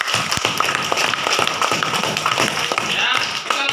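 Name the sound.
class giving a round of applause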